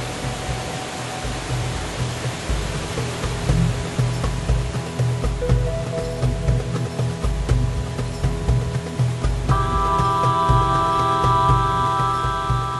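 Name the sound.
roaring waterfall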